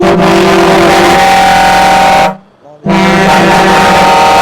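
Volvo FH heavy-haulage truck sounding a loud, sustained horn blast with its engine running, cutting out briefly mid-way before resuming.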